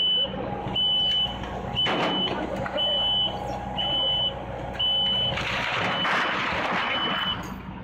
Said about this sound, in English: Oh, that was a stacker truck.